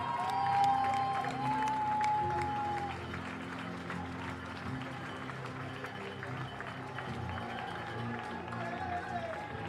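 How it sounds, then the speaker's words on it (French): A crowd at the HOKA UTMB Mont-Blanc closing ceremony applauds and cheers a finisher, a diffuse continuous roar of clapping and voices heard at some distance, steady and moderate in level. "Les applaudissements pour Julien Vesser"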